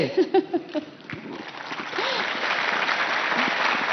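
A live audience applauds at a news forum event: a voice speaks briefly, then steady clapping swells from about two seconds and holds at moderate loudness to the end.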